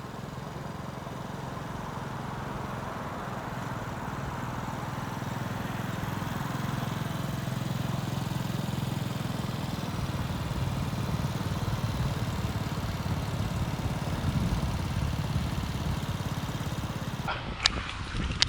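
Motorcycle engine with the throttle opened, a steady broad roar that holds close and loud throughout, swelling slightly in the later part before a brief clatter near the end.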